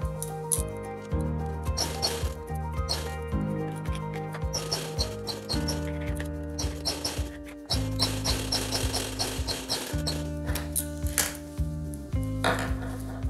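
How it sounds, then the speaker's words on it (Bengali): A sewing machine runs a pressing stitch down the middle of a fabric face mask in close bursts of rapid needle clatter, pausing and restarting several times, with no voices. "তারপরে আমি মাঝখান দিয়ে চাপ সেলাই দিয়ে নেব"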